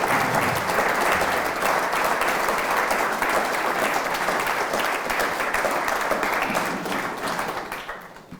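Sustained applause from a museum audience for a readers theatre cast, dense steady clapping close at hand throughout, tapering off in the final second.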